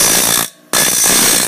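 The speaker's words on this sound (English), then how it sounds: "and I'm just grinding." Grinding a metal part for a bow mount with a power tool: two loud, broadband bursts of abrasive grinding, each about half a second or longer, separated by a brief pause.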